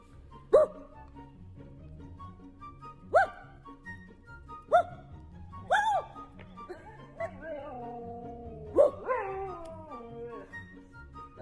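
A dog answers a person's imitation barks with a few sharp barks spaced a couple of seconds apart, then breaks into a drawn-out, wavering howl-like bark sequence, close and moderately loud indoors.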